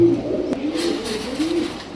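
A pair of KTM pigeons coo up close, with a steady low, throaty cooing running throughout, fairly loud and with no talk over it.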